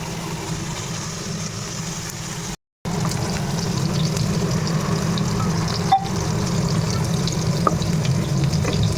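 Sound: food frying in a wok (kadai)

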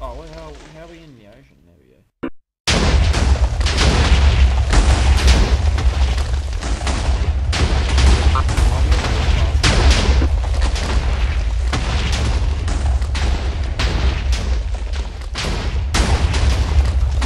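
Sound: explosion in Minecraft video game

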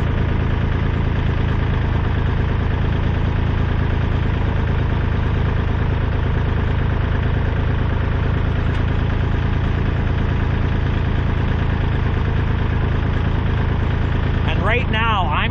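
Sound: Kubota tractor engine idling while hydraulics are operated

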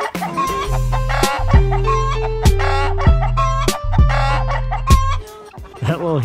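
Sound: chickens clucking and rooster crowing

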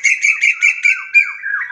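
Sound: koel calling nearby

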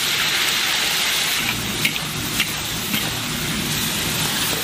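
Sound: chopped chili stir-frying in lard

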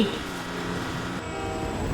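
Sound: train passing in the video game Grand Theft Auto V

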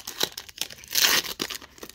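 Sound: tearing open a plastic booster card pack

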